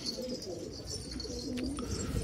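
Soft, low pigeons cooing nearby, a few rolling coos over a quiet background hum, with no one speaking.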